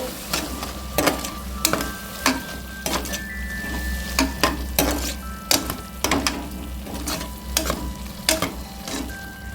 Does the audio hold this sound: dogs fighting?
no